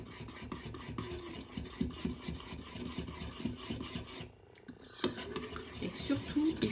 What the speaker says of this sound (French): donc vous allez bien mélanger